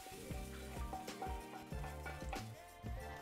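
Peppers and onions frying in a pan, a steady sizzle running throughout with a few louder bursts as the vegetables are stirred, close and fairly loud, with no talking.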